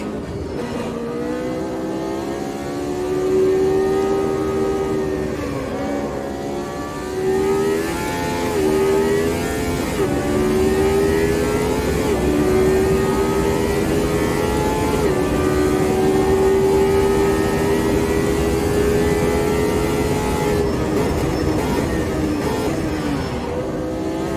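A Lotus 79 racing car engine in the Automobilista 2 racing game, a loud, sustained high-revving tone that climbs and dips through gear changes, with no one talking.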